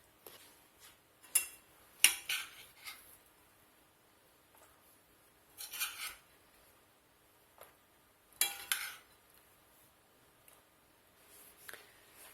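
Apples and walnuts are stirred in a pan with a utensil, producing faint, intermittent scraping and clinking bursts spaced a few seconds apart over near silence.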